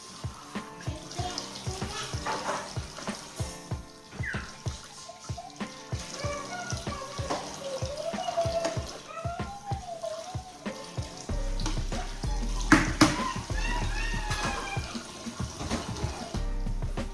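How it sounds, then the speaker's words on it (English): Dishes are washed at a kitchen sink under running tap water, with steady splashing, clinks and trickles that carry on for a long stretch over faint background music. "I'm just washing the dishes."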